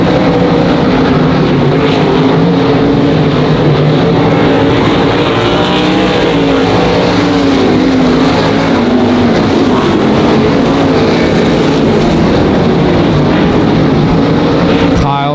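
Race cars speed around the Monarch Motor Speedway oval, a dense, constant roar of engines at full throttle with a race announcer talking over it throughout.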